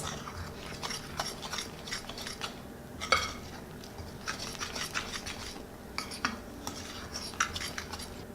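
A utensil scraping and tapping in a bowl while vegan gluten-free banana bread batter is mixed, a quiet, irregular series of clinks and soft stirring strokes with no voices.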